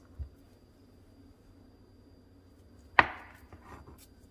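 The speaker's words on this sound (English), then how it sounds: "you're gonna cut it in half and then half again, lengthwise" A knife slices a ripe banana lengthwise, landing as one short, quiet cut against a board after a stretch of near silence.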